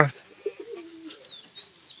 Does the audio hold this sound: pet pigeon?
yes